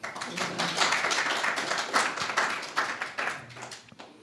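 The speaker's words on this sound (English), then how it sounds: "So with a warm round of applause," Applause from an audience welcoming guests to an art exhibition and book launch, a steady patter of many hands clapping at moderate volume for several seconds.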